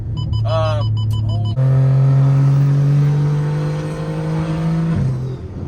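BMW 335 engine idling steadily after being driven with no oil, a loud, continuous low drone close by, preceded by a short electronic beeping chime and a brief lower hum before the engine settles in.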